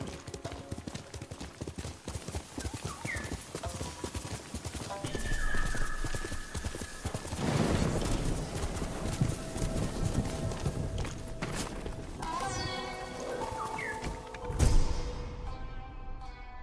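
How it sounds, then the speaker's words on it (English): Rapid rhythmic hoofbeats of a galloping horse with a whinny, set in a busy soundscape with music and effects from the video game Ghost of Tsushima. "Horse!"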